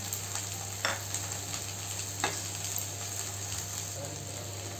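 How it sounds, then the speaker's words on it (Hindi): Long-sliced onions sizzle and fry in a pan for okra bhujia, a faint steady crackle with a couple of brief stirring scrapes and a constant background hum. "अब यहाँ पर जो मैंने प्याज काट के रखा था लंबा लंबा सा, ये डाल दूंगी।"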